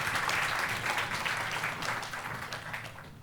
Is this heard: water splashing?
no